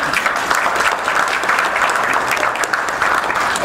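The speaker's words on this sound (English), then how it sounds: "Give yourselves a round of applause." Loud, continuous applause from a crime watch group audience, a close, dense wash of clapping that holds steady for several seconds with no speech over it.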